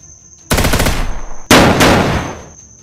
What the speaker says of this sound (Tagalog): Parang may binaril doon banda.